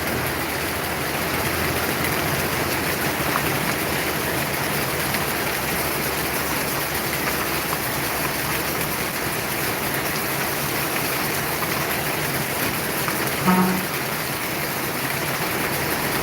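Heavy rain pours down as a luxury-class bus pulls into the terminal at Palembang, a steady dense hiss over a low engine rumble that continues throughout.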